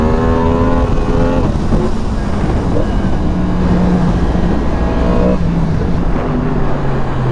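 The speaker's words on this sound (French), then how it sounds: "Et en plus il y a des petits retours avec le pot d'origine. Le bruit est plus que correct." A 2023 Yamaha MT-10 SP motorcycle with its stock exhaust rides along, a loud continuous engine drone with shifting pitch as it revs, heavy wind rush over the microphone.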